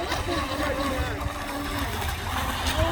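Fast electric RC racing boats at a race course with a concrete wall, giving a steady whine and rush of spray that stays mid-distance and fairly constant, with crowd or commentary sounds mixed in.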